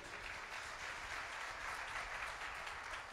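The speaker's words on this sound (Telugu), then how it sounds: "చప్పట్లు కొట్టండి." Church congregation applauding, a dense steady burst of many hands clapping, fairly faint and distant, with no talk over it.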